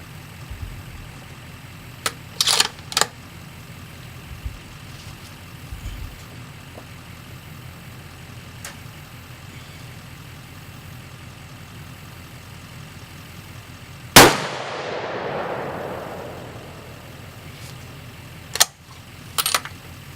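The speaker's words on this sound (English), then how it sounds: "so I'm going to go ahead and shoot 2 more." A Remington 700 BDL factory rifle fires one sharp, loud shot that decays slowly into the background, and a second brief report follows a few seconds later. Fainter clicks and handling noises come earlier, and there is no talk.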